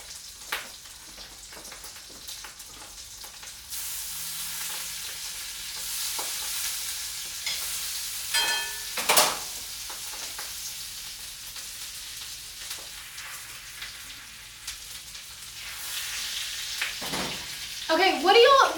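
Butter sizzling and frying in a pan as it is stirred, a steady soft crackle with occasional scraping strokes and brief louder spatters, voices faintly present.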